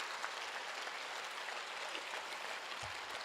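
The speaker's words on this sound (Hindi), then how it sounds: "दोनों हाथ उठाकर 1 मिनट की तालियां" Audience at a Hindi poetry recital claps with both hands raised, a faint, steady, hissing wash of many hands applauding at a distance, unbroken throughout.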